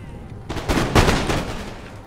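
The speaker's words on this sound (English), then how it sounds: "Final volley at point blank range." A ragged musket volley from line infantry in the Empire Total War strategy game, several close overlapping cracks within about a second, fired at point-blank range, then a fading rumble of battle noise.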